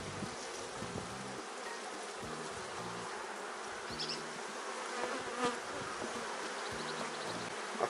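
Honeybees swarm around an open hive during a colony inspection, their dense, steady buzz filling the air close by, with individual bees droning past in louder low hums now and then and no voices.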